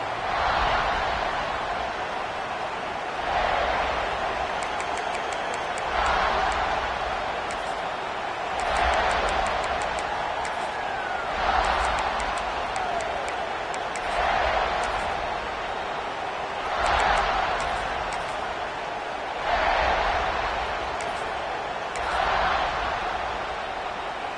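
Stadium crowd roaring in a college football video game, a steady loud wall of cheering that swells in regular pulses every few seconds, with faint commentary-like talk underneath.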